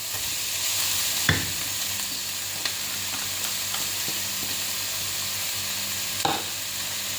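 Garlic and grated carrots sizzle steadily in a pan under a constant frying hiss, with a few sharp clacks of a utensil stirring against the pan.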